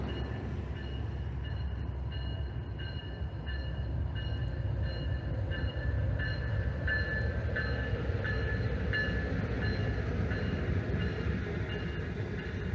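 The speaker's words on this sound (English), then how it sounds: "7520 is leading this intermodel that you're about to see passing through your screen." A Norfolk Southern intermodal freight train led by locomotive 7520 rumbles past in a continuous loud roll of wagons, with rhythmic wheel clicks over rail joints throughout.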